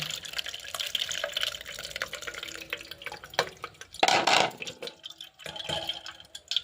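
A homemade corn flour mixture of corn and water being poured through a sieve, with soft irregular drips and splashes of liquid nearby and a brief louder pouring burst midway.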